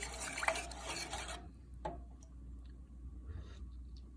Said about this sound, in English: I'm gonna just stir it up and see how it's doing